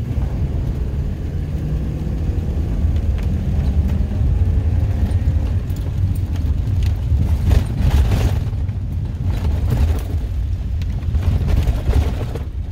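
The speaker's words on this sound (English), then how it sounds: "I'm going to just floor it down this driveway" A vehicle floored down a freshly graded driveway, with a continuous loud low engine roar and rumble close by and bursts of gravel crunch and bumps toward the end. No one speaks.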